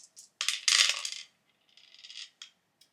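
Dice rattle and clatter onto a hard surface during a tabletop book-challenge game, in two quick bursts of tumbling clicks with a few scattered ticks after, close and clear with no talk.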